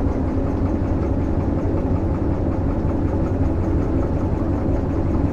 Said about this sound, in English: Release the independent brake. Knock it into forward. And away we go.